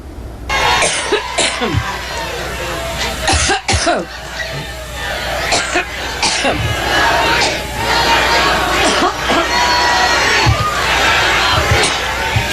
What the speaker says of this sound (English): the factory ignored the cough because everybody coughs